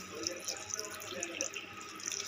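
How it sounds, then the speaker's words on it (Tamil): Water running steadily into a pan, a soft continuous splashing stream with faint drips, fairly quiet and close. "நான் ஒரு டம்ளர் தண்ணி ஊற்றிக்கிறேன்."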